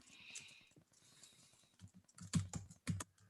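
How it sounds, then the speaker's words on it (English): Someone types on a computer keyboard in a meeting room, with faint key clicks at first and then a few louder, heavier keystrokes close by. "And if anybody has language that they want to throw out while I'm typing"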